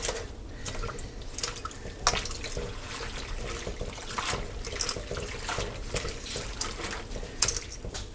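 Collard greens being squeezed and swished by hand in a sink full of water, a continuous wet sloshing with scattered drips and splashes, close and fairly quiet.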